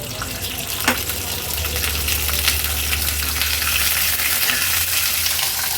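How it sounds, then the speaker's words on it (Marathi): Bell peppers fry in about a tablespoon of oil in a pan, giving a loud, continuous sizzle with a low hum underneath and one sharp click near the start, and no speech. "आता एक एक करून ह्या शिमला मिरची आहेत त्या तेलावर सोडते."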